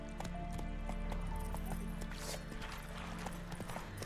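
Horse galloping in the game The Witcher 3 on PS5: rapid, steady hoof clip-clops close by, layered over game music with sustained tones, with a muffled voice faintly under it.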